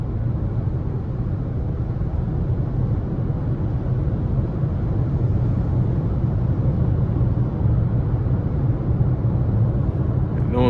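A 2023 Nissan Altima 2.5 SR with a CVT gives a steady, even engine and road drone from inside the cabin while driving, a low rumble holding constant throughout without distinct rev peaks.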